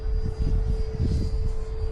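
An E-flite Viper 64mm electric ducted-fan RC jet in flight gives a steady, loud, high whine with a constant pitch and a slight rush of air.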